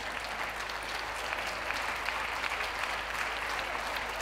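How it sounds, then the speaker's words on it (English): Steady, continuous applause from a large audience at a championship dog show ring, even and sustained throughout, heard from a distance with no talking. "please a round of applause to those leaving the ring"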